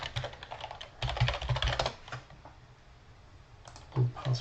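Rapid keystrokes on a computer keyboard as someone signs in, bursts of clicky taps with a pause in the middle, close and clear.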